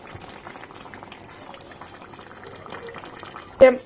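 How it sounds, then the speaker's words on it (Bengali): A light Bengali fish curry with drumsticks, tomato and bori bubbles steadily in a pot, a soft continuous simmer with small pops, ending in one sharp close clatter. "ঝোলটা বানানো দেখো এখন ফুটে গেছে একদম"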